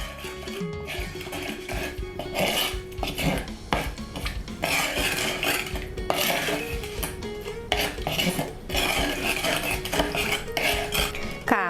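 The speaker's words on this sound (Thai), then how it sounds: "ต่อไปก็คนให้เข้ากันนะคะ" A spoon scrapes and clinks steadily against a dish as a spicy Thai salad with sai tan is stirred, continuous close clattering with a busy rhythm.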